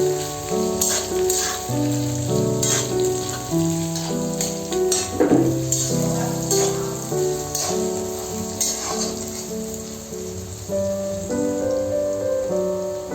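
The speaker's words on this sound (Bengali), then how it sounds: "এবার পেঁয়াজটাকে ভালো করে ভেজে নেব" Chopped onions fry in oil for a village-style doi katla fish curry, giving a steady close sizzle with the occasional stir, under a tonal melody that plays throughout.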